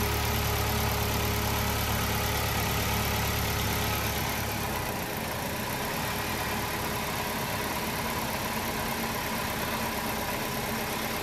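Car engine idling steadily during a coolant flush, a continuous close mechanical hum with a low rumble that eases a little partway through, no voices over it.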